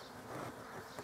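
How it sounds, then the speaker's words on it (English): Honey bees flying around a hive in an apiary on a cool spring day, a faint, steady buzzing drone heard briefly at a distance. "the bees are actually flying"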